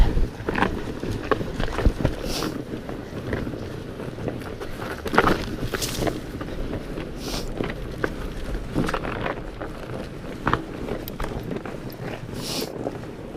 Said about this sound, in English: I guess you can probably hear my studded tires